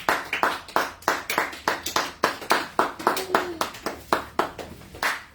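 Congregation clapping in rhythm during a French-language church service in Cape Town, steady loud claps about four per second over several seconds, with faint voices underneath.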